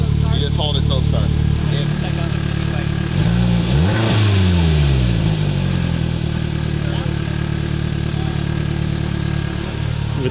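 An engine cranks and starts on a vehicle after fuel priming, with a revving, frequency-sweeping surge as it catches before settling into a loud, steady run, while people talk over it.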